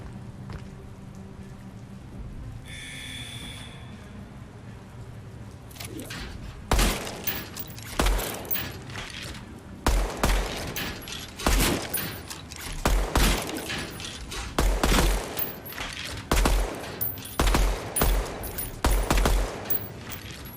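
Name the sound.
single-fire gunshots in a video game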